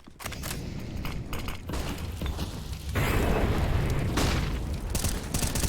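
A grenade explodes in a competitive tactical shooter match, with loud booming bursts and rumbling debris that swell midway and keep going, layered over dense game noise.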